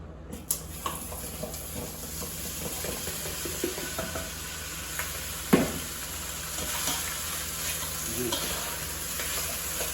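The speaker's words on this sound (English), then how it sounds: "I'm gonna just saute this in a skillet to get some color on it" Smoked sausages sauté in hot oil in a skillet, giving a steady close sizzle with occasional stirring scrapes and one sharper clatter partway through.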